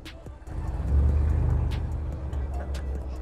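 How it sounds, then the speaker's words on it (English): Cars pull into a car show nearby, giving a low rumbling engine drone with faint clicks and background activity. "Even now, we still got some cars coming in."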